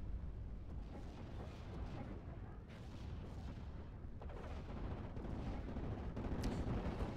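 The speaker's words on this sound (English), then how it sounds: "There's mortar." Mortar fire in the wartime strategy game Steel Division: Normandy 44: muffled distant booms and rumbling impacts over a constant low battlefield roar, with no voice over it.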